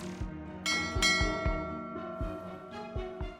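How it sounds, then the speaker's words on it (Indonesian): A school bell rings in a steady run of struck, ringing tones, each strike decaying into the next. The sound is moderately faint and heard alone. "Sudah Bel, sebaiknya kamu masuk kelas lagi Arsy."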